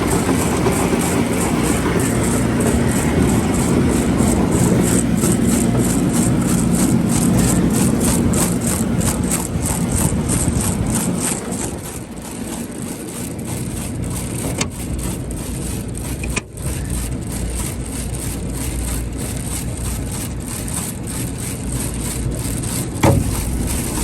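Large auger in a farm feed mixer lifting material from the bottom and churning it, a loud steady mechanical rumble with a rattling engine drone that eases slightly midway, with no talk.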